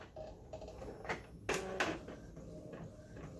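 An Epson EcoTank printer runs a page, a quiet steady mechanical whir with a few brief louder sliding passes of the print head, close by with no talk.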